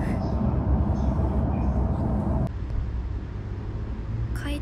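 A train carriage heading toward Okutama rumbles along, a steady low mechanical roar with rattling that drops noticeably in loudness partway through, followed by faint clicks near the end.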